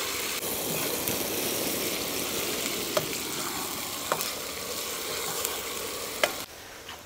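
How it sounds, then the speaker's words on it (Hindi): Chopped onions fry and brown in a pan for Pahadi chicken, giving a steady close sizzle throughout with a few sharp clicks and no voices. "अब चॉप किया हुआ प्याज, अब इसको अच्छे से ब्राउन होने देते हैं, अच्छे से पका लेते हैं।"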